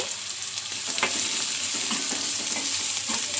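Chopped onions hit hot oil in a kadai with mustard seeds already fried, setting off a loud, steady sizzle with occasional scraping stirs throughout and no talking.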